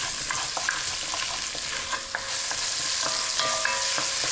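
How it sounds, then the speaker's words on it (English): A spoonful of tomato paste sautéing for a pork ragu, sizzling loudly up close while being stirred with repeated sharp scraping clicks, no voices. "give that a quick saute"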